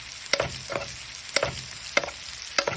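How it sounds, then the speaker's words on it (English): Tri-tip searing in a pan with butter, pine leaves and halved garlic cloves: a low, steady sizzle under four or five sharp clinks and scrapes of a utensil against the pan, spaced about half a second to a second apart. "Tri-tip into a pan, the butter, pine leaves, and 2 garlic cloves cut in half."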